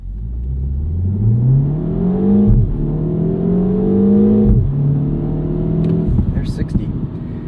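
A 2025 Mini Cooper JCW turbo hot hatch pulls away from a stop with a rising engine note, dropping twice at upshifts before climbing again, loud and close from inside the car.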